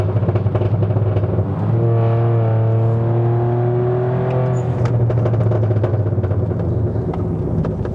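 A Proton X50 engine drones steadily while driving, with a low rumble and rising then settling harmonic tones as the car shifts down through gears, loud and continuous throughout.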